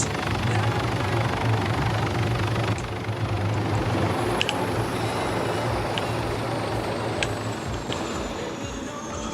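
A helicopter in the video game Screaming Dayz sits on the ground with its engine and rotors running in a steady loud drone, easing slightly toward the end with no speech.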